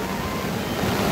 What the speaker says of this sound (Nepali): थुप्रै समयपछि यसरी